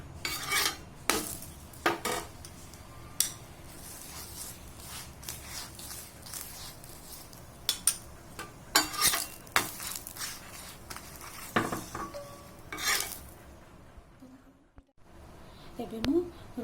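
Ghee sizzles on an egg paratha cooking on a hot tawa, mixed with clinks and scrapes of a utensil against the pan, while a voice talks throughout.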